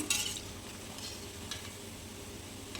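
Golden fried pesara garelu, lentil fritters, are lifted out of hot oil into a strainer, giving a soft steady sizzle with a few faint scrapes and clinks, close by and with no talk.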